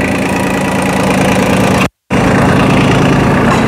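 A Hitachi EX15-1 mini excavator engine runs at a steady, loud idle close by, a dense continuous rumble broken by a brief silent gap midway before resuming unchanged.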